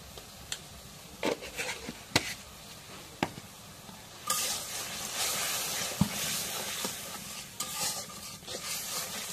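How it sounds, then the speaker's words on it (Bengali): Spice masala fries in a pan with soya chunks in a home kitchen, giving a steady sizzle with repeated scraping stirs and utensil knocks, close and loud, with a louder sizzling surge midway and no talk. "এখন মশলাটা একটু নাড়া দিয়ে দিই"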